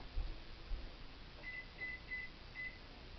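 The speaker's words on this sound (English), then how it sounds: "I'm going to go ahead and set my timer" A digital kitchen timer is set beside a pot of mixed berry jam coming to a boil, giving four short, faint high beeps in a quick irregular run over a quiet kitchen hum.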